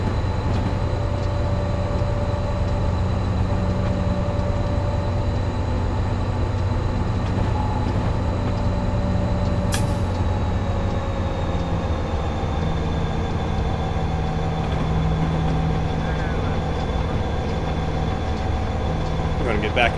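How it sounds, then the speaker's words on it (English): A train passing on the Cajon Pass line in Train Simulator 2015, a steady low rumbling roll with humming tones and a faint high squeal that runs unbroken for the whole stretch, without speech. "Passing by another train right there."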